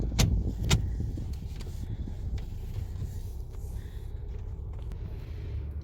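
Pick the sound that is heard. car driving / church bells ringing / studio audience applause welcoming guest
car driving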